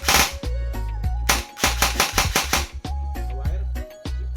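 Airsoft rifle with a freshly installed MOSFET fires several full-auto bursts, each a rapid mechanical rattle of shots, loud and close, with short pauses between strings.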